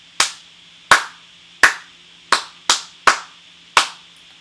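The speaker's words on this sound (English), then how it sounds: "So clapping the rhythm starting at line 2." Sharp hand claps from a beginning trumpet class, seven separate claps spaced unevenly to tap out a rhythm, each crisp and close with a quick decay, alone with no talking.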